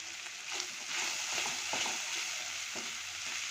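A spicy cheesy chicken pasta mixture sizzles in a hot pan as a utensil stirs it, soft scraping strokes recurring over a steady frying hiss, close and fairly quiet.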